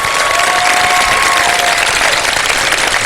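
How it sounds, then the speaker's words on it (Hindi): Dense, steady applause from a studio audience at a live Ramadan iftar television show, loud and sustained for the whole stretch with no break, a faint tone sounding underneath. "लोहे कुरानी आप लोगों की भरपूर तालियों के साथ"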